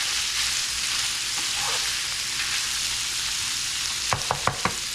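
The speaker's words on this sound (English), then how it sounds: "I'm gonna cook this till the meat is no longer pink and the onions are tender" Ground meat and onions sizzle steadily in a pan, a continuous hiss throughout, with a few sharp clicks of a utensil against the pan near the end.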